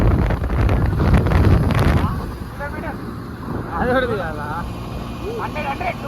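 A motorbike rides fast down an open road, with loud buffeting wind noise against the microphone and a steady engine drone throughout, and someone talks over it.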